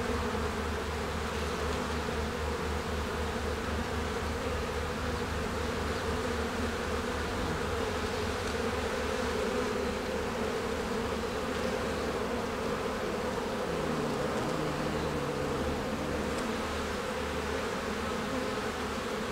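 Dense, steady droning buzz of many honeybees in an opened beehive colony, close and constant throughout with no pauses or speech.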